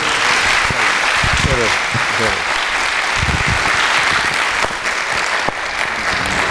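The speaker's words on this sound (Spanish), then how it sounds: "démosle un aplauso a Juan Carlos, hombre, que lo merece" A crowd at a book presentation applauds the author Juan Carlos, a loud, sustained burst of clapping that holds for several seconds with a few voices underneath.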